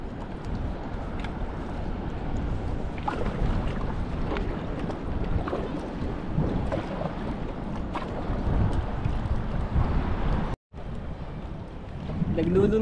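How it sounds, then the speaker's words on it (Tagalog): Strong wind buffets the microphone aboard a small fishing boat at sea, a constant rough roar with gusting rumble and scattered knocks, broken by a brief dropout, while people talk faintly underneath. "Malakas ang hangin."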